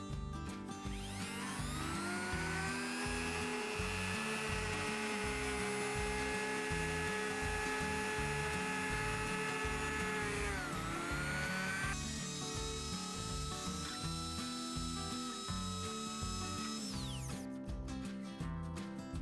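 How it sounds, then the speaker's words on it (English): A conical router bit cutting the base layer of vinyl flooring, a loud continuous high-pitched whine with a steady rumbling drone beneath, shifting pitch partway through before winding down at the end. "And we use a conical router bit."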